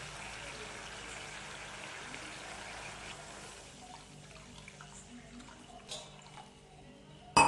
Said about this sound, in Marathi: आता याच्यात पाणी टाकू.